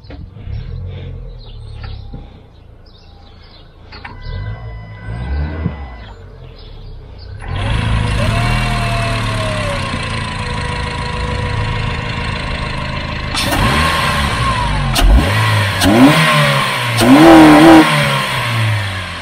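A Honda CR-Z engine fitted with an RB1 intake manifold idles with a low rumble, then revs up loudly several times, the pitch rising and falling with each blip of the throttle.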